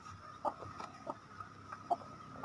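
Chicks and ducklings on a poultry farm giving soft, scattered clucks and chirps, faint and close, in short irregular bursts with no speech.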